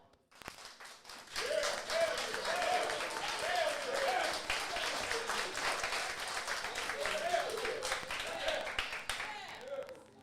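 A live show audience claps dense and steady for around nine seconds, rising quickly and then holding, with a few voices mixed into the crowd noise.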